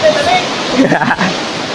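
A rocky river full of big stones rushes loudly and steadily in a broad, constant roar, with faint voices briefly rising over the flow.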